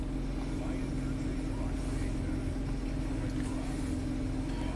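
A Nissan V6 engine idles slightly high, near 900 to 1,000 RPM, with a steady low hum and a faint tonal whine that stay constant for the whole stretch. A person talks over it.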